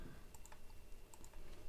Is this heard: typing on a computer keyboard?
yes